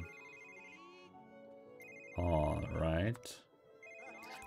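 A phone rings with repeated electronic tones in The Sims 3 while game music plays, and a loud burst of sim chatter or music sounds in the middle; a voice speaks briefly.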